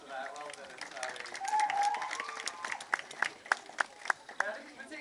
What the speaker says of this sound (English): Give him a little round of applause for that.